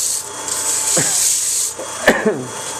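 Abrasive rubbing and rasping against a wooden Christmas tree ornament turning on a lathe over a steady motor hum, with a few sharper scraping bursts.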